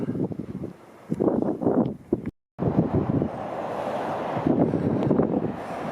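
Strong wind gusts across open countryside near wind turbines on a road between Bapaume and Péronne, buffeting the microphone with a loud, steady rushing roar and one brief dropout partway through.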